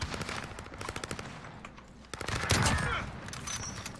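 Shotgun fire in a Call of Duty Search and Destroy match comes as rapid, dense bursts of gunshots, louder in a cluster near the middle, with game noise and players talking faintly underneath.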